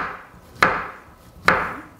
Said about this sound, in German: Und dann schneiden wir die Banane einfach in Stücke.